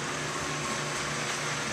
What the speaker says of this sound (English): Pardon the sounds, sellers are doing laundry.